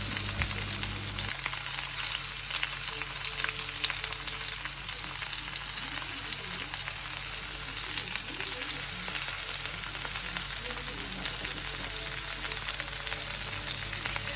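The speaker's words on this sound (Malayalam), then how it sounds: "ഇനി മീൻ ഓരോന്നോരോന്നായിട്ട് നമുക്ക് പറക്കിയിടാം. എണ്ണയൊന്നും ദേഹത്ത് വീഴാതെ നോക്കണം." Indian mackerel pieces fry in hot oil over a low flame, giving a steady, dense, close sizzle that continues without a break, with faint crackles and spits throughout.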